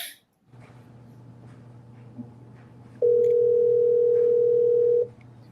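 Telephone ringback tone while placing a call: after a low line hum, a single loud, steady electronic tone sounds clearly for about two seconds, then cuts off.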